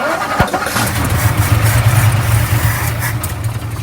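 A 1959 Ford F100's Y-block V8, sitting unused for decades as a barn find, catches and runs with a loud, steady rumble close by after a sharp cranking click.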